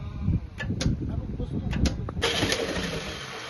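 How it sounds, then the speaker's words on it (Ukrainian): A tractor engine cranks and sputters with rough bursts in 20-degree frost, then catches on the first crank and settles into a steady, noisy running rumble; a voice is faintly present. "З першого прокрута хватає трактор."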